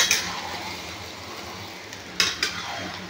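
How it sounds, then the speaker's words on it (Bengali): Chicken marinated with oil, salt and turmeric fries in a pan with a soft steady sizzle. A spatula stirs it, giving a few sharp metallic scrapes against the pan. "আমি এই চিকেনটা দিয়ে দেবো, দিয়ে একটু কষাতে থাকবো, একটু কষাবো এইভাবে।"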